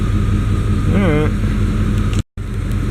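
A car engine idles steadily at about 650 RPM while running a little rich, a constant low rumble up close with a brief voice and a short dropout near the end.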